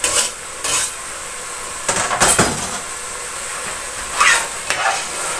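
A pan sauce with fresh chopped oregano and basil cooking on the stove, a steady sizzle under repeated utensil clatter and scraping, with a few louder knocks against the pan.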